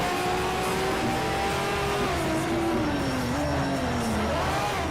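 A Koenigsegg race car in the Need for Speed: Shift racing game, its engine droning steadily and loud throughout as the revs climb and dip through gear changes, with faint tire noise underneath.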